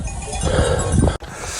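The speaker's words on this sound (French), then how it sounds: "Pas du tout, c'est des chèvres." Goats with cowbells on a mountain trail: clanking bells and soft bleats close by, ending abruptly with a brief cut before quieter clinking resumes.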